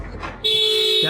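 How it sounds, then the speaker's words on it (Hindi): A car horn sounds a single loud, sustained blast that starts abruptly partway in and holds steady to the end. "देखो जरा क्यों हॉर्न बजा रहा है।"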